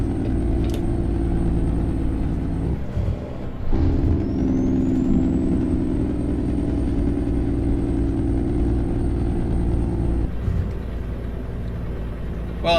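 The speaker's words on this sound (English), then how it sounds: "I'm sure these folks over here enjoy hearing that engine brake or that Jake brake at 7:30 in the morning" Heavy truck engine in American Truck Simulator, a loud, steady low drone that grows stronger for several seconds of engine braking, joined by a thin rising whine before it eases back.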